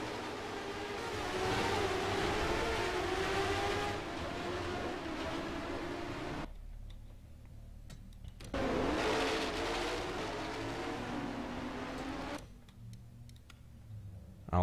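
Race car engine from the NASCAR Racing 2003 video game drones loud and steady, cutting out abruptly twice into near silence before roaring back in.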